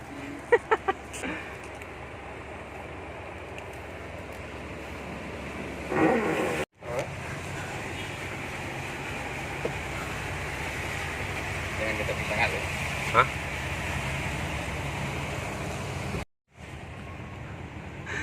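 A Perodua Kancil car pushes through floodwater on a flooded road, giving a steady rushing wash of water and engine noise that runs for the whole stretch, with two brief cut-outs.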